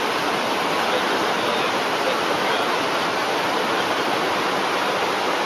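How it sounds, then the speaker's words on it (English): Water pouring through a siphon overflow at a wastewater treatment plant, a loud, steady broadband rush like a small waterfall, continuous with no voices. "So it's got a siphon overflow there, and it lowers the level back in there."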